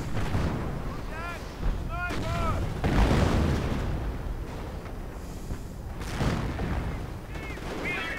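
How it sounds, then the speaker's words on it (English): Heavy booms and rumbling blasts from distant video game artillery, mortars and a 17-pounder gun roll in dense bursts, with chirping whistle sounds and a voice talking underneath. "So a bit of mortar fire to try and soften up the British. Mighty 17-pounder gun firing away as well."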